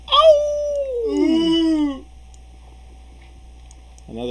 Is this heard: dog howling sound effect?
yes